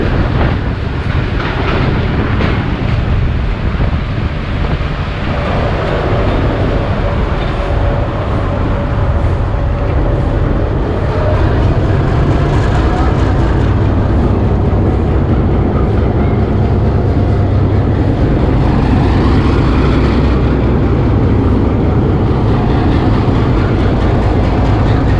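Thall Express train approaching Taxila Junction, a loud continuous rumble of rolling wagons and engine drone with steady rail noise throughout, no talk.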